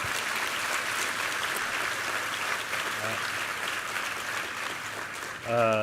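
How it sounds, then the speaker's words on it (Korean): A church congregation claps together in thanks during a Sunday worship service, a dense, sustained wash of applause filling the room, with a voice rising near the end as it tapers off. "우리 감사의 박수 한번 드리겠습니다."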